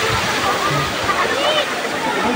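Steady broadband rush of water at Daranak Falls, a waterfall heard close and continuous throughout, with faint voices underneath.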